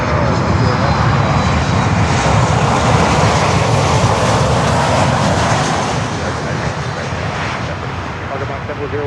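Cargo jet engines roar loud and steady at Miami airport, a broad continuous rumble that holds throughout and eases slightly near the end.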